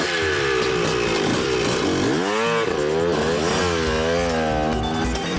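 A cartoon's advanced bike revs hard and rides off, its buzzing engine rising and falling in pitch in loud, continuous sweeps with no pause.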